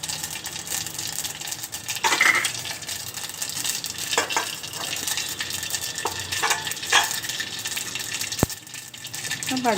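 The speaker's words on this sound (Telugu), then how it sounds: "జీలకర్ర, ఆవాలే వేసి పోపు పెట్టాలి." Cumin and mustard seeds tempering in hot oil for an instant spicy amla pickle make a continuous close sizzle and crackle, with occasional stirring scrapes and clicks of a utensil.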